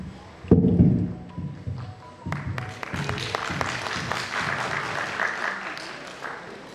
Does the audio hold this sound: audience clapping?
yes